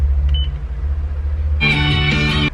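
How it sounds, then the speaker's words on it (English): A car audio head unit being installed in a Lexus SC430 with a Beat Sonic kit gives a steady electronic beep as its mode button is pressed, followed by a bright burst of sound under a constant low hum. "that beep you heard was me hitting the mode button so that we could hear audio"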